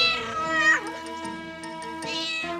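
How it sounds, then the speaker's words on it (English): A giant cartoon cat lets out long, drawn-out meows and caterwauls, loud and close, with pitch swooping up and down against a musical score. "Oh, wow. It's a King Kong kitty."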